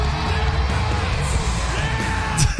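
Arena crowd at a WWE event screaming and yelling as Jeff Hardy wins the championship, a dense, sustained roar of many voices with a few sharper individual shrieks near the end.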